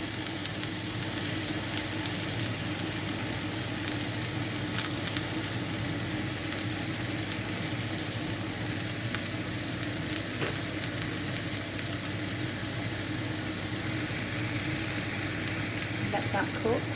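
Mushrooms frying in a pan on a gas hob for a one-pan cooked breakfast, a steady dense sizzle holding evenly throughout with faint crackles and no talk.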